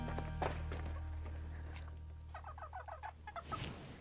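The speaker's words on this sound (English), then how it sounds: "now you need to give the chickens treats" Chickens cluck and chatter in quick bursts as they are given treats, fairly faint against a steady low background hum, with the clucks growing busier toward the end.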